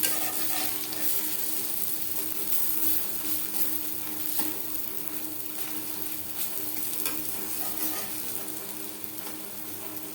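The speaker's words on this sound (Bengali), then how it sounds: "ডালের বড়া একটা সাইড ভাজা হয়ে গেলে অপর সাইডটা উল্টে দেবে" Steady oil sizzle and bubbling from pea-lentil fritters frying in a pan, with faint scraping of a utensil, continuous and fairly loud throughout.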